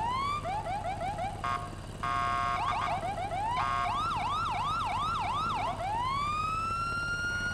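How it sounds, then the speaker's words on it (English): A loud electronic police siren on a police motorcycle in Grand Theft Auto V, manually operated, cycles through rapid yelps and wails, switching patterns several times before settling into a long rising tone, sounding close by. "Figured out how to do the manual siren."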